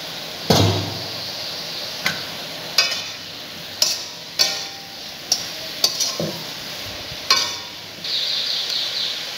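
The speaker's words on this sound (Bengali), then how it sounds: "ঢাকনাটা খুলে দেখি সবজিটা কেমন সিদ্ধ হয়েছে" A lid lifted off a pot of cabbage and vegetables cooking on the stove, giving a few sharp metallic clinks and scrapes spread over several seconds, with a steady simmering sizzle underneath and no talk.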